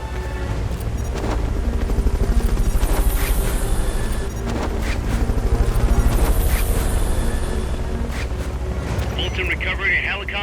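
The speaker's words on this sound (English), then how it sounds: "Fulton recovery helicopter is complete." The Fulton recovery helicopter in the game Metal Gear Solid: Peace Walker gives off a loud, continuous rotor rumble with a deep low-end roar that surges and eases slightly before steadying toward the end.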